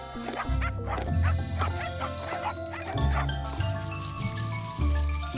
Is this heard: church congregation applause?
no